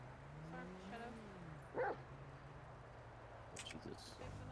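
A dog gives a single short bark, faint and somewhat distant, near a road with a low engine hum. People talk intermittently around it.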